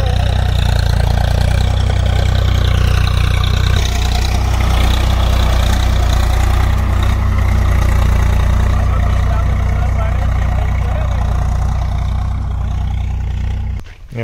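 A Swaraj 855 or Ford 3600 tractor engine runs steadily during wheat and gram sowing in a farm field, with a loud, continuous low rumble and throb that shifts slightly partway through. A voice is faintly audible under the engine noise.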